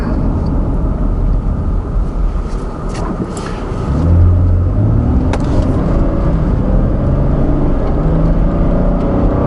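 2013 Lexus RX-350 driving on rain-soaked roads, a steady loud interior rumble of engine and tire noise with a slight rise in drone partway through.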